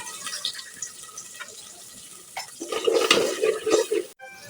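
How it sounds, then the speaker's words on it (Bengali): Spice paste with turmeric, chili and coriander powders is stirred and fried in a pot, with soft scraping and bubbling that grows louder toward the end, then cuts off abruptly; no speech. "এখন মশলাটাকে ভালো করে কষিয়ে নেব।"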